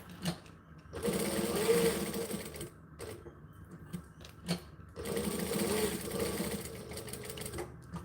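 A green sewing machine runs in two long bursts, revved hard with a steady mechanical whir and needle clatter, separated by brief pauses and softer handling noises, close and fairly loud.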